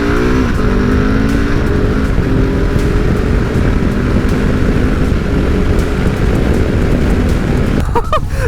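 A Husqvarna 701 supermoto motorcycle from 2022 accelerating hard, the single-cylinder engine roaring loud and close with rising pitch through the gears, heavy wind noise over it.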